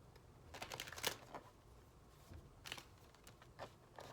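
Oracle cards being shuffled by hand, quiet soft riffling bursts and flicks in short irregular clusters, close and faint with no talk.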